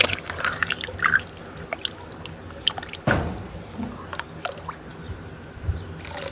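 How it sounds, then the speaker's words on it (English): Beef broth is poured into a pot of goulash with diced tomatoes and tomato sauce, giving soft liquid trickling and splashing with a sharp clink of the container partway through. "A couple cups of beef broth."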